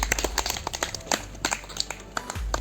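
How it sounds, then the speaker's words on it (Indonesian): A group claps for the second team in a teacher-training class, a quick scattered run of hand claps over a low room hum. "tepuk tangan untuk kelompok 2"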